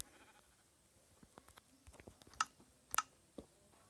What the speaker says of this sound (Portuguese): Olha aqui, ovelha.